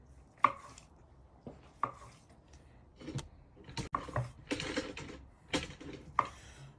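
A knife cutting slices from the end of a hot-and-fast smoked brisket, heard as a series of irregular soft crunches and sharp taps against a cutting board, close and quiet, with brief pauses between strokes.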